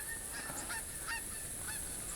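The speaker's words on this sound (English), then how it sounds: "here I think it's kind of cool that you can have the high-flying geese" High-flying geese in the hunting game theHunter Classic, several nasal honks at irregular intervals, fairly faint and distant over a quiet background hiss.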